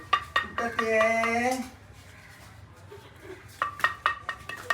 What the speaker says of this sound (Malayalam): ഈ ചട്ടിയും ഒന്ന് കൊട്ടി നോക്കും